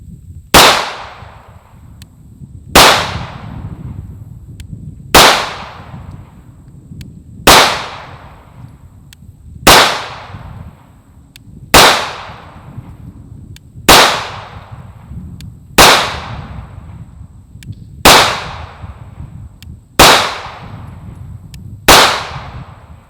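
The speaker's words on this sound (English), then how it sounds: "We'll shoot this one first at the top target, and then we'll switch to the Legion" Ten sharp CZ P-01 pistol shots fired at a target on a shooting range, evenly spaced about two seconds apart, each a loud crack with a short decaying tail and no talking.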